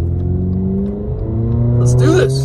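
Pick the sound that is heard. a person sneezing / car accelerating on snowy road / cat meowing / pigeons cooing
car accelerating on snowy road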